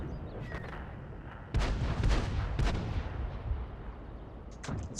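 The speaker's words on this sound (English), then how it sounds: "This guy got shot by artillery." Artillery fire in an online tank battle game: several heavy booms with rumbling tails, a couple of them sharp and close, followed by a brighter crack at the end.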